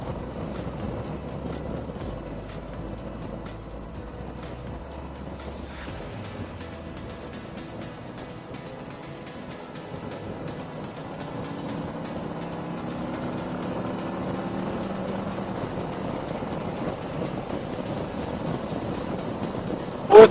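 Harley-Davidson CVO motorcycle, 2023 model, accelerating on the road through the gears, a steady engine drone with rising harmonic tones that climb as speed builds, heard from the rider's position with a brief sharp peak at the end.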